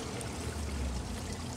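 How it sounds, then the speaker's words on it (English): Water runs steadily through a school garden bed past small plants, a continuous low trickling wash with no pauses, close by and moderately soft, with no voices over it. "And the water's just running."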